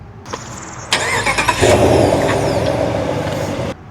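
A 2026 Ram 1500 Laramie V8 pickup truck engine cranks and roars to life after a brief whine, then settles into a loud steady rumble before cutting off sharply.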